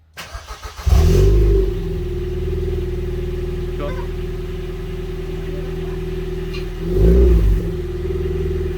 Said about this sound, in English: I'm not gonna rev it. Ah, just give it a little blip.